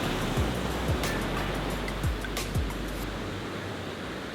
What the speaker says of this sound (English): the noise from the ocean and the breeze